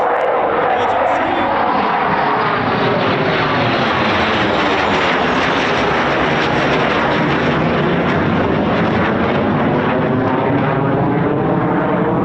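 Eurofighter Typhoon FGR4 jet flying circuits at RAF Coningsby, a continuous loud roar with a slowly shifting pitch as it passes, filling the whole stretch.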